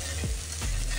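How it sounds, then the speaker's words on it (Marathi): Jeera rice stir-fried in a pan over a high flame gives a steady hissing sizzle, with two scraping strokes of a spoon against the pan. "राईस परतत असताना गॅसची फ्लेम हायच ठेवायची आहे"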